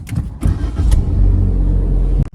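A 2022 Proton Persona engine starts with a short cranking burst, then settles into a loud, close, steady idle that ends abruptly.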